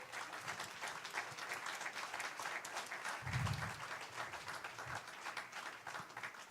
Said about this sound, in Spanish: Si le vas a dar un aplauso, dáselo fuerte al Señor